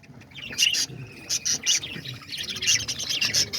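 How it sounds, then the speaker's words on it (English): Caged parakeets give a lively stream of overlapping chirps and tweets, bursts rising and falling near the listener, moderately loud, with no voices. "let's go check out the other birds, the parakeets."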